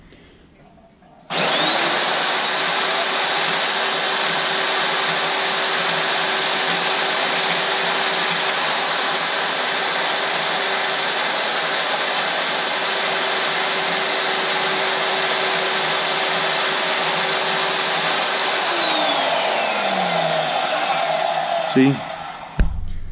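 A power blade worked by a foot switch roughs an oval into kydex sheet for a knife sheath, a loud steady whine running continuously for about twenty seconds before winding down, with no talk.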